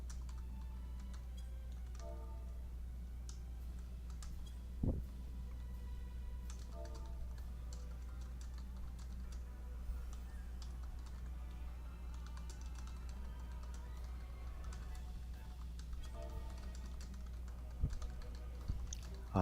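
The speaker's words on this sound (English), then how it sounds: "Typing, I'm typing." Computer keyboard typing during a Black Mage game session, with steady soft clicks and occasional louder keystrokes running under a constant low hum for the whole stretch.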